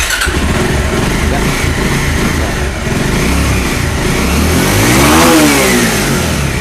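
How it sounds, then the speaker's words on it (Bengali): A used motorcycle at a second-hand bike market in Bangladesh idles loudly and close, its engine note rising in a couple of throttle revs near the end before settling back. "এই বাইকটা আসলে সাউন্ড কন্ডিশন খুবই হেভি ক্লিয়ার আছে"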